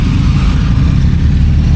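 A motorcycle engine runs steadily at close range on a Chennai road, a loud continuous low rumble with no breaks.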